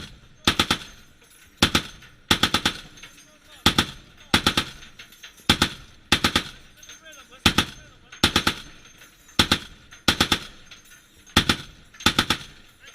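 Sailors fire an M2 Browning and twin M2HB heavy machine guns at sea in about a dozen sharp, loud bursts, short and longer ones repeating in a steady rhythm with brief gaps of quiet between.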